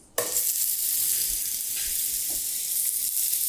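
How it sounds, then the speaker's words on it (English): Seasoned meat trim hits a hot pan with a sudden sizzle that settles into a loud, steady frying hiss. Occasional soft pops come through, with no voices. "We just fry it."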